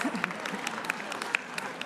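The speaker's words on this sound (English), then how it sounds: "that should not really be getting such a big applause, ladies, right?" Audience applause at a political gathering, a scattered patter of claps with a few sharper hits, heard at moderate distance beneath a murmur of voices.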